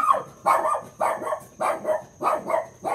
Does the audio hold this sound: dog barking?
yes